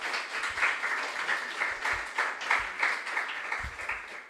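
Steady applause from an audience at a junior science and maths quiz final, clapping for the contestants, a dense even patter of many hands holding at a moderate level throughout.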